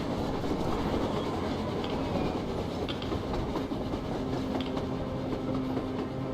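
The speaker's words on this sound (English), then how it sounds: "A train! A damn train on the surface!" A video game train in Metro Exodus rumbles past with steady clattering wheels on rails and faint squeals, a dense, continuous roar from close by.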